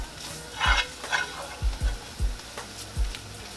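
Onions, flour and garlic frying in extra virgin olive oil while being stirred, with a low sizzle beneath a handful of close scraping stirs and knocks of a utensil in the pan.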